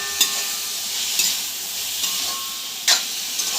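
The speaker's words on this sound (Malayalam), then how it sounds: "ഉപ്പ്, മഞ്ഞൾപ്പൊടി എന്നിവ ചേർത്ത് നല്ലോണം വഴറ്റിയെടുക്കുക" Salt and turmeric powder being sautéed in a pan for a Sunday chicken biriyani, giving a steady close sizzle and hiss with a few sharp scrape-and-stir clatters of a spoon against the pan.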